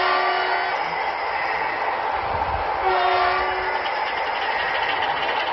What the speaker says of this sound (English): And a big toot.